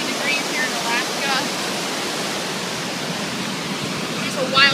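A river rushing beside a glacier in Alaska on a warm day, a dense steady wash of water noise close by with faint high chirps scattered over it.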